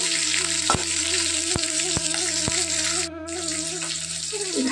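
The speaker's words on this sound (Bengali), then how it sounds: "কালো জিরে আর কাঁচা লঙ্কাটাকে ভালো করে ভেজে নেব।" Nigella seeds and green chillies fry in hot oil, a steady close sizzle with a few sharp clicks and taps of a utensil against the pan throughout.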